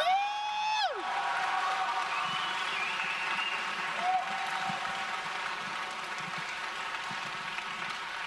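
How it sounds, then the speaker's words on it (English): A live convention audience applauds the hosts at the close of a show. A loud, sharp tone opens, then moderate, steady clapping runs through the rest. "Can you please give a huge round of applause for both Gigguk and DIGIBRO?"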